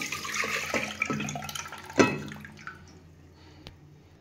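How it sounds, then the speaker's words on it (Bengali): Washed mung dal and water being poured into a pressure cooker, a steady close splashing pour with a sharp clink partway through, then fading to quieter trickles. "আমি কুকারে ডালটা সেদ্ধ করব, ওই জন্য কুকারের মধ্যে ঢেলে দিচ্ছি"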